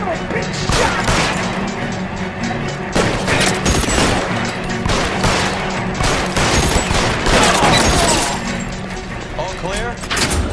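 Dense, continuous video game gunfire from an L.A. Noire shootout, with loud overlapping shots, crashes and impacts running throughout while voices talk over the fighting.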